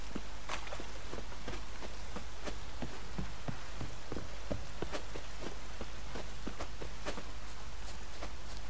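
Steady rain in the video game The Witcher 3: Wild Hunt, a constant close hiss of falling water overlaid with evenly paced footsteps trudging along.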